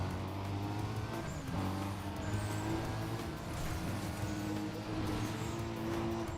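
A Toyota Supra's engine drones steadily in Need for Speed: Undercover, holding a loud sustained hum with slight pitch shifts as the car races, with no talk.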